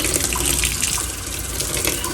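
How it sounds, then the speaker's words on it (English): Warm water runs steadily from a kitchen tap while bread dough is being prepared, a close, continuous splashing gush with no talking. "So I'm getting my warm water going."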